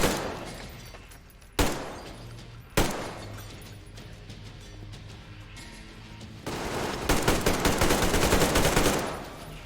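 Gunfire in the video game Metro Exodus: a couple of sharp single shots give way to a loud sustained burst of rapid automatic fire from a machine gun near the end, with in-game ambience underneath.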